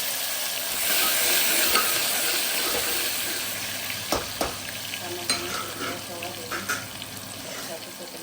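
Cumin, asafoetida and tomatoes sizzling in a frying pan, a loud bright hiss that softens as the ingredients settle, with a few clinks and stirring taps near the end.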